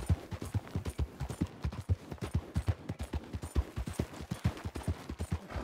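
Horse hooves gallop in the Red Dead Redemption II video game, a steady rapid clip-clop rhythm of thuds that runs loud and close throughout with no talking.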